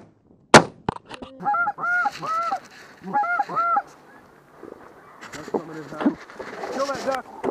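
Honking waterfowl calls come in quick repeated groups during a hunt. A sharp shot-like crack opens the sequence, and the calls are moderately close outdoors, with more honks near the end.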